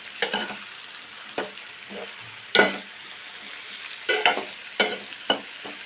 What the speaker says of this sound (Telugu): కొత్తిమీర పచ్చిమిర్చి అల్లం వెల్లుల్లి అది పేస్ట్ అది కొంచెం మగ్గనిద్దాం